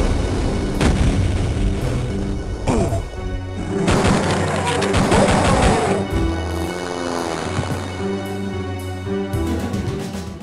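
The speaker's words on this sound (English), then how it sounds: "this is a really good way to play Duke Nukem 3D" Duke Nukem 3D game audio played through a Yamaha wavetable sound card, mixing loud booms, crashes and gunfire over a synthesized music track, with some game voice lines.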